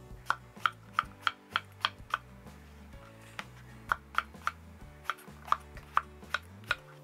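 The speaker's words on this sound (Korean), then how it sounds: "이제 어슷썰기로 썰어주는데요, 약간 두껍다 싶게 썰어주세요" A knife cuts eggplant on the diagonal into fairly thick slices, each stroke a sharp tap against a cutting board, about a dozen chops in two uneven bursts at a close, steady pace with a short pause between them.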